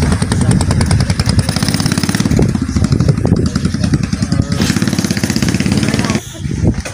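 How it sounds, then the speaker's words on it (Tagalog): Keeway Cafe Racer 152 motorcycle running at a shop, a loud, steady, close engine note with a rough, rapid pulsing throb throughout, with faint talk mixed in. "So eto na yung bike ni Daddy Ram"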